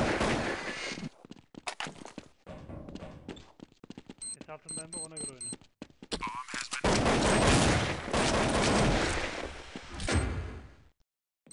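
Counter-Strike 1.6 match on the de_nuke map: loud bursts of rapid gunfire crackle close by in clusters, broken by a planted bomb's repeating electronic beeps midway, with voices talking over the action.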